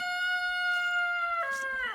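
A hen on a homestead gives a single drawn-out call with strong harmonic tones, held steady and then shifting at the end, loud and close on a quiet day with no talk.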